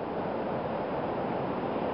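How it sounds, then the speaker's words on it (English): Ocean surf and wind on the coast at Crescent City, a steady broadband wash of waves with wind buffeting the microphone, constant and fairly close, no voices. "I'm on the ocean."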